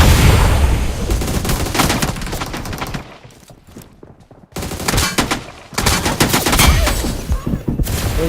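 PUBG Mobile gunfire from an esports match stream: loud rapid automatic bursts dominate the start and end, with a quieter gap in the middle.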